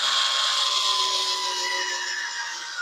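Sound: Bauer electric screwdriver running

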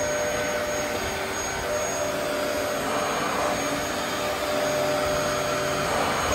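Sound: vacuum cleaner with new motor running on carpet

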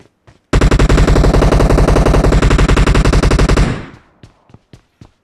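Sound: gunfire in a video game

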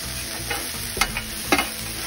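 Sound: onions sizzling on a Blackstone griddle

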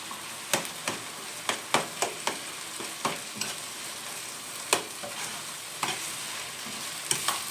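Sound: sautéing minced meat in a pan for cabbage rolls

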